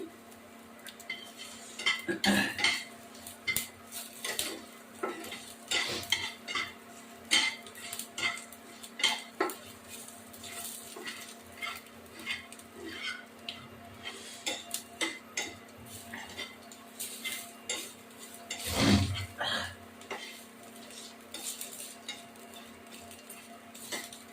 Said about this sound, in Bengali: এই যে খিচুড়িতে মশলা দিচ্ছি